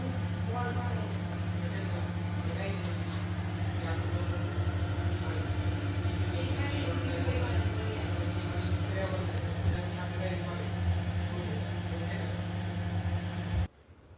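A microwave oven runs on its grill setting while a cauliflower masala snack cooks, giving a steady, fairly loud hum with a strong low drone that carries evenly and then cuts off abruptly near the end.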